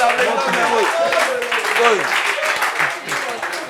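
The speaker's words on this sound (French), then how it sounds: "Applaudissements pour Mermoz." Audience applause for Mermoz at a group meeting, a steady wash of clapping running the whole time while voices talk over it.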